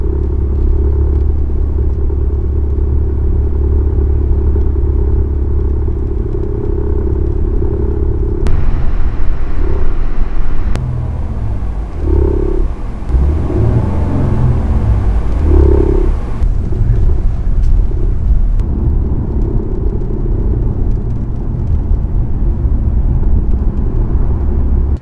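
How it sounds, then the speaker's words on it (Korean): A Hyundai Genesis G80 with an engine defect gives off a continuous low, droning rumble. The sound is steady and loud throughout, with slight swells in the middle and no talk. "결함이 엔진 떨림하고 소리나는 구르르 하고 소리나는 증상 두 가지가 있었는데"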